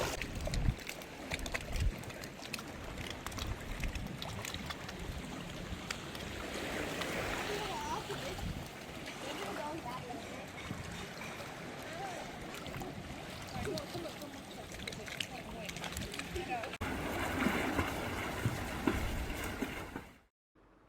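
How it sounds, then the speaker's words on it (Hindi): Water laps and splashes steadily around an overwater villa at the Amaya Kuda Rah resort in the Maldives, a continuous close wash of sound that fades out abruptly at the very end. "सिर्फ आपको पानी की आवाज़ सुनाई देगी"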